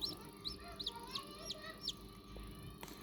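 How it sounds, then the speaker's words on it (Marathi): Newly hatched chicks in an incubator give a string of high, thin peeps, about one every third of a second, close by over a constant low fan-like hum. "हे पाहू शकता तुम्ही कशा प्रकारे पिल्ले निघलेत आपले मित्रांनो"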